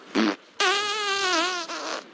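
A fart in a comedy sketch about a married couple: a brief puff, then a long, loud, buzzing fart lasting well over a second, close and alone.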